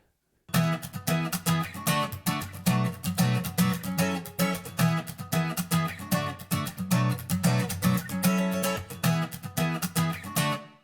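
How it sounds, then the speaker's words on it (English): An acoustic guitar strums a steady rhythmic pattern for several seconds, with a natural, bright room reverb adding some space around each strum. "the preset is bright room, but it's a fairly natural sounding reverb"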